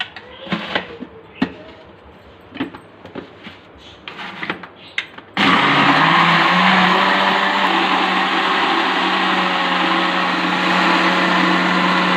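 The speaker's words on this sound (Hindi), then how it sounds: "इसको मैं इसके अंदर शामिल करूँगी और 6 से 7 मिनट तक लगातार इसको मैं ग्राइंडर के अंदर चलाऊँगी" An electric kitchen grinder whirs continuously, grinding sugar for a vanilla chocolate cake, starting abruptly after a few seconds of quiet handling clatter and then running loud and steady to the end.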